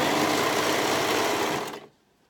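A sewing machine runs fast along a sweatshirt neckband, one close, steady whirring burst of stitching that stops abruptly before a brief quiet tail.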